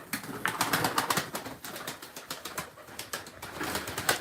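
Domestic pigeons coo softly in a loft, a continuous murmur of overlapping coos at moderate distance with a few faint wing sounds.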